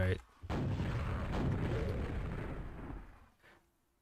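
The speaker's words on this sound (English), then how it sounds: "Every ogre I kill with the rocket launcher, I get my ammo back straight away" Rocket launcher blasts against ogres in the DOS game Quake: a loud, rumbling explosive roar that holds for about three seconds, then fades away.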